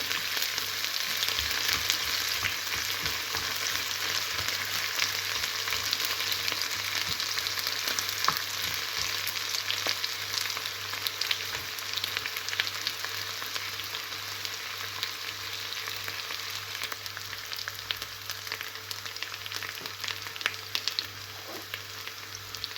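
Onions sautéing in a pan for Japanese oyakodon give a continuous even sizzle with faint crackles throughout, close and moderately loud, with no voices.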